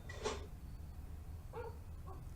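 A voice imitates a dog with a short bark, then after a pause gives two smaller yipping barks, quiet and close.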